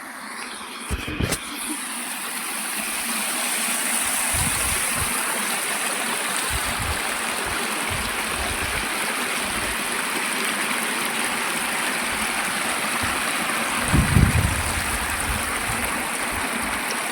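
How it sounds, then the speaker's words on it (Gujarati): Water runs steadily like a small stream in a continuous, fairly loud rushing wash, broken by a few soft thumps near the start and around the middle. "જોઈ શકો છો, ઝરણા જેવું જ જાય છે ને."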